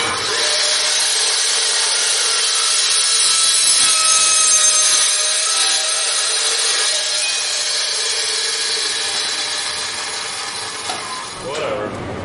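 A loud, steady grinding or sawing roar cuts an exhaust pipe on a 1968 big block Chevelle, continuous and close for about eleven seconds before trailing off.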